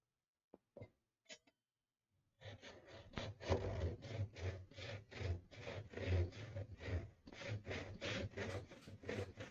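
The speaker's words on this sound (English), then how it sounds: "I'm cutting into that board that moved, that piece that moved" A wooden board being hand sawn while building a bellows: after a few faint taps, steady rhythmic back-and-forth saw strokes rasp through the wood, close and even-paced, with no talking.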